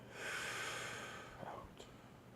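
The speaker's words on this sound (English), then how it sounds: "So we're gonna practice just breathing" A person breathes out slowly and audibly during a breathing exercise, a soft, airy exhale that swells and fades over about a second, followed by faint small noises in a quiet room.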